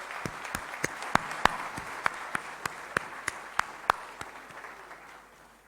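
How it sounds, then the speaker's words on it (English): An audience applauds a panel at the Raisina Dialogue 2020 inaugural session. The claps are distinct and evenly spaced, a sparse rhythmic clapping that stays fairly soft and tapers at the end. "please join me in applauding this wonderful panel for their fantastic contribution"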